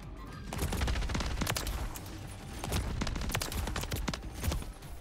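A sentry gun firing in Modern Warfare, rapid automatic bursts of sharp cracks over a dense bed of in-game combat noise, fairly loud, with no talking.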